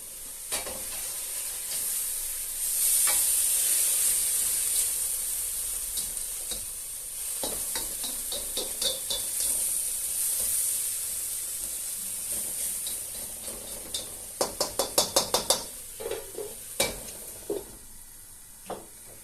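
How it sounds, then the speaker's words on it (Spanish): Food sizzles steadily in hot olive oil in a frying pan, a close continuous crackle broken by repeated clinks and scrapes of a utensil stirring against the pan, with a quick run of taps near the end. "En la sartén le hemos puesto un poquito de aceite de oliva y cuando esté caliente procedemos a echarlo."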